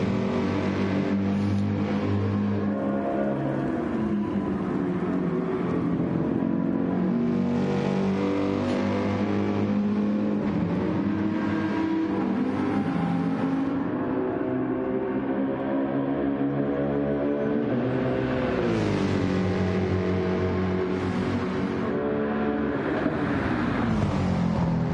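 Race cars lap the Goodwood circuit in a video game racing league: loud engines drone continuously, with pitch rising through gearshifts and revving, then sweeping down as the cars brake and change speed.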